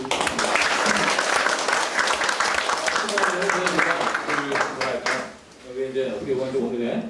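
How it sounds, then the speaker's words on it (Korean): Audience applause at a book concert, a loud, dense round of clapping that fades around five seconds, after which a voice starts speaking. "다시 한번 박수"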